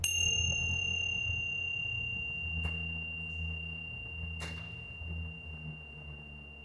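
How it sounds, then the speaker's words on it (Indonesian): Tingsha bells used for sound healing ring out with a bright sustained tone that slowly decays, struck again softly a couple of times, alone in a quiet room. "Ini dia juga seperti bell ya bunyinya dan menghasilkan getaran gelombang"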